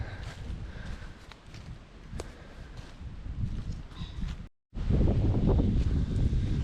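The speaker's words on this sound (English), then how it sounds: "It's so windy here, I do apologise folks if there's any wind in the audio." Steady low buffeting wind in the Scottish outdoors rumbles against the microphone, cutting out briefly before returning stronger, with no voices.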